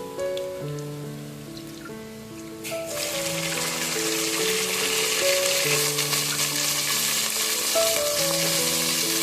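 Chana dal dropped into hot oil sets off a loud, steady crackling sizzle that swells after a few seconds and keeps hissing, with tonal music playing throughout.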